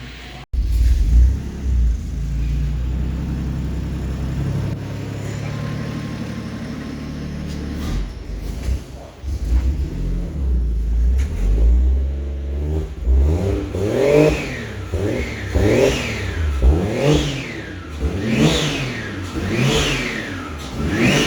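A Toyota FRS with a swapped-in 1JZ engine idles, then revs repeatedly through a newly finished exhaust, the pitch sweeping up and down in a rhythmic series of sharp, loud blips that climb and fall close by.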